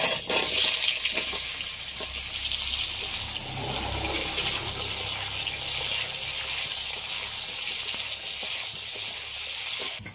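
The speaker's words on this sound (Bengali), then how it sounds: "এবার এই আলুর মধ্যে হালকা করে লবণ আর হলুদ মাখিয়ে নিয়েছি। এই আলুগুলোও ভেজে নেব।" Potatoes coated with salt and turmeric fry in hot oil with a close, steady sizzle and crackle, a little louder at first and then even.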